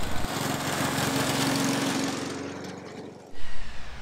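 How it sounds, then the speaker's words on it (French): Lawn mower engine running loud and close while mulching grass clippings, a steady droning hum that cuts out near the end, followed by a few rustling bumps. "Avant de commencer à tondre, on va s'assurer de bien remonter la hauteur de coupe de la lame"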